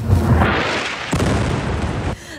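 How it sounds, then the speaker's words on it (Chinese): Loud, rumbling blast from Israeli shelling of buildings in Beirut's southern suburbs, a broad roar lasting about two seconds with a second surge midway before it cuts off, no voices. "爆炸声伴随橘红色火光，以色列炮弹再次瞄准贝鲁特南郊的建筑攻击"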